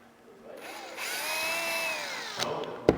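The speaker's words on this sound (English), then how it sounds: "you take a 4mm drill, you mark it from outside, and" A handheld power drill with a 4mm bit spins up and bores through a plastic motorcycle fairing cover on a Husqvarna 701, a steady whining drone lasting a couple of seconds, close, ending as the bit breaks through with a sharp click.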